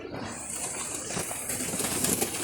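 Soft pigeon cooing comes through over a steady, hissy background, with birds shuffling nearby.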